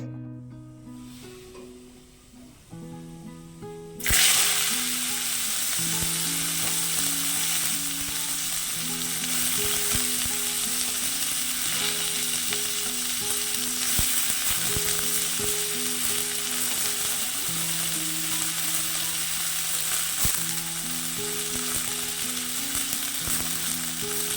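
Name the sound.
food frying while cooking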